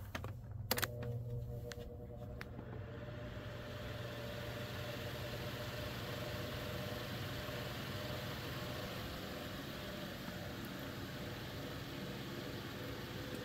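A 12-inch Lasko fan with an all-plastic housing runs on its low setting, giving a steady, even whir after a couple of brief clicks as it starts up.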